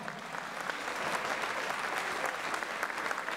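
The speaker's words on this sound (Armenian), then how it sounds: "գնացին ծափահարությունները եւս մեկ անգամ" Wedding guests applaud the bride and groom at an Armenian wedding reception, a dense, even round of clapping from a full room that holds steady for a few seconds at moderate distance.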